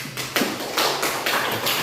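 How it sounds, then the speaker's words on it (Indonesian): A class of students applauds in a classroom: a few loose, close bursts of hand clapping that swell and fade in quick succession. "Beri aplaus dulu untuk Ana."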